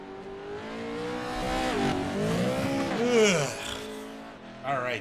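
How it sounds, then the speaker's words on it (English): Three racing trucks circle a track during warm-up in a Minuteman Racing Series event, engines droning and shifting pitch as they pass, with a rise near the end and a voice talking over them. "Looks like we got 3 trucks out on the track."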